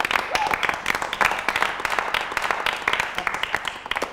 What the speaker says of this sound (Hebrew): תנו מחיאות כפיים לעצמכם